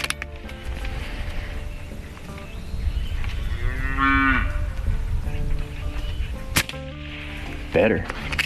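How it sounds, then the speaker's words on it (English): A horned cow moos loudly and close by in a rural field, one drawn-out bellow in the middle with a shorter low call near the end, over steady outdoor rumble and a few sharp clicks. "I'm legit low-key terrified I'm gonna get gored by a cow with horns out here."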